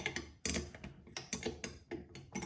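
A ratchet with a 10 mm socket works a bolt on a Mitsubishi Evo 7-9 CT9A steering wheel, giving several short bursts of close mechanical clicking at an uneven pace with brief pauses between strokes.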